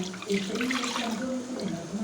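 Rinsed batter water from a mixer jar pours into a kadai in a home kitchen, a continuous close splashing, gurgling flow lasting throughout.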